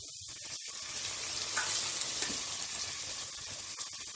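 Tomatoes frying in oil for mutton biryani, a quiet, steady sizzle with faint stirring, heard alone with no voices.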